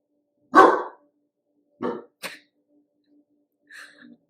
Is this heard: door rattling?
no